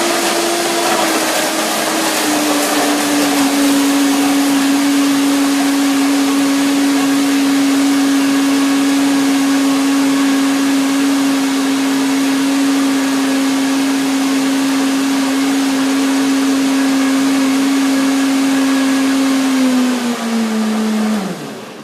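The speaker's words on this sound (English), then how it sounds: "So I have to blend it once more." A blender whips lemon cream for a raw vegan peach pie with a loud, steady motor whine that holds one pitch for about twenty seconds and then drops as it winds down, close and alone.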